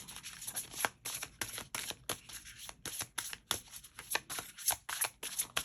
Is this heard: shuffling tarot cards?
yes